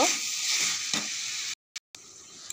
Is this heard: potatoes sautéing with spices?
yes